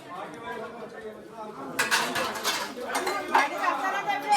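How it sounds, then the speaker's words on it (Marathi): Women scrub and rinse metal pots and dishes after a village event, clinks and scraping growing busier midway, with chatter and voices throughout. "भांडी असतात भांडी घासा घासा घासा"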